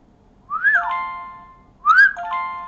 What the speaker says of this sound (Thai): ผิวปาก